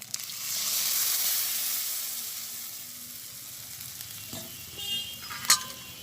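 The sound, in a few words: stirring pointed gourd with milk and almond paste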